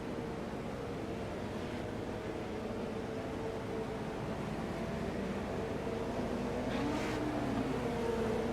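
Steady engine roar from race cars on an oval track at Iowa, a continuous drone that holds at an even level under a faint distant hum.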